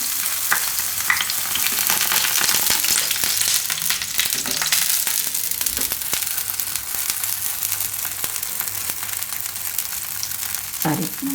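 Oil sizzles steadily in a pan as an oats and vegetable pancake fries on medium heat, a dense, close crackling hiss that runs throughout, with a few clinks and scrapes of a spatula.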